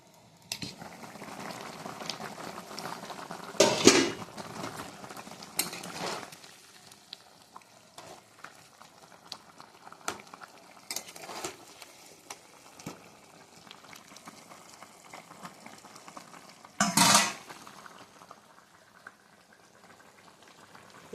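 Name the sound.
cooking pot boiling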